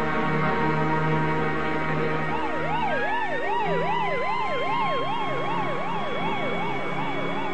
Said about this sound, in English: As the ambulance rushed off to the hospital